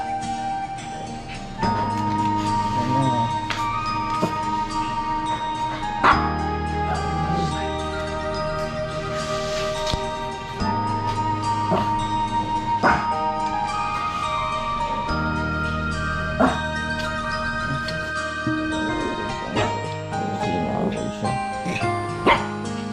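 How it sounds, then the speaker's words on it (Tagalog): Two dogs bark and yip at each other in a heated, continuous exchange, with sharp repeated barks and whimpers layered over steady background noise and a faint tinkling. "galit na galit yung dalawang aso na"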